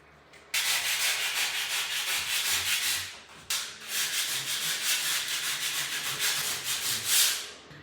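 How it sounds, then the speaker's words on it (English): Mould is sanded off a surface in a 1950s house: two long, loud bursts of steady rasping abrasion, close by, split by a brief pause. "first step, we're gonna sand the mould and see if it comes off"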